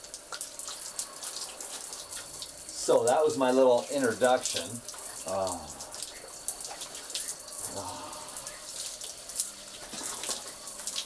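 Shower water sprays and splashes steadily in a bathroom, a constant hiss heard close by, while a person talks over it for a few seconds.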